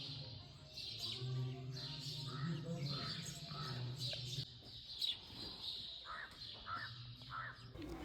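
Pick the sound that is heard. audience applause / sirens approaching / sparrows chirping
sparrows chirping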